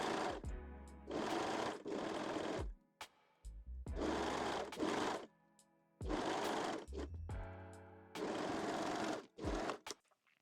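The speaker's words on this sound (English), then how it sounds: "And sew the layers together. I like to add the elastic just to the underarm seams" Sewing machine stitching elastic onto the underarm seams of a wire-free bralette with a longer stitch, running in several steady bursts of a few seconds each, separated by short pauses, close and clear.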